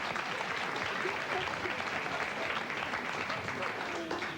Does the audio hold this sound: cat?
no